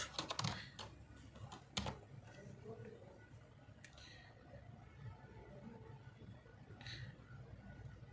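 Typing on a computer keyboard while entering a Bangla ChatGPT prompt: scattered, fairly quiet key clicks in irregular bursts over a steady background hiss.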